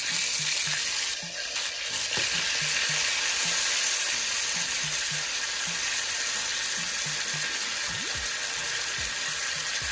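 Salmon sizzles steadily in a hot pan after lemon juice goes in, a bright continuous frying hiss with soft repeated scraping or stirring taps underneath and no talking.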